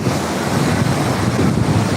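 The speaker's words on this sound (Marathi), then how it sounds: "खूप म्हणजे खूप लाटा यायला" Ocean surf breaks steadily on the shore, a loud continuous roar of churning water mixed with wind buffeting the microphone.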